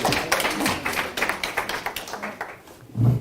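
An audience at a church seminar claps in a quick burst of applause, with dense, uneven slaps from many hands that thin out toward the end, followed by a soft thud.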